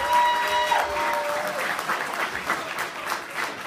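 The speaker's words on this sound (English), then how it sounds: "One more round of applause for the upsetters" A crowd at a community Buy Black event breaks into loud applause for the Upsetters team, with sustained, close clapping that rises sharply at the start and then continues.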